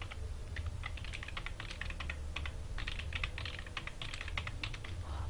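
Rapid typing of junk text on a computer keyboard, a close run of light key clicks in uneven bursts with brief pauses over a low hum, with no voices.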